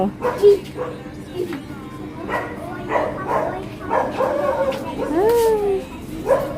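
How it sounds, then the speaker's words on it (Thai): A dog barks and yips repeatedly outdoors at night while a family watches a total lunar eclipse. Adults and children talk over the barking throughout. "หมาก็เห่า"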